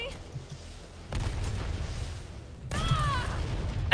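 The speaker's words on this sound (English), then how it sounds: "Rocket launcher? Really?" Two heavy rocket-launcher blasts from Resident Evil 3 Remake, one about a second in and another near the end, each a broad booming burst that rumbles on over a steady game soundscape while a voice talks.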